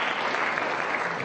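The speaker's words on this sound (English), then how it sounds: "y'all can applaud" An audience at a religious liberty event breaks into brief, steady applause, dense clapping heard throughout without speech.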